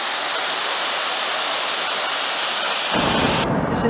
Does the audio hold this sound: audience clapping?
no